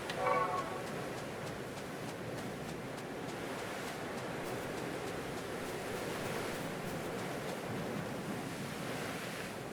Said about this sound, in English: Oh, waves sound kind of weird.